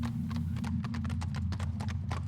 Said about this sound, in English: Coach and horses clambering up Maltman's Hill